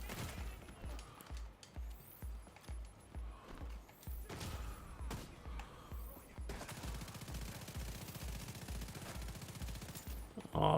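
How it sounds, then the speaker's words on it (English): Rapid bursts of automatic gunfire from The Division 2 during a heroic PvE mission, loud and rhythmic with short pauses between volleys, then a denser sustained stretch of firing toward the end. "Oh, I missed so many shots right there"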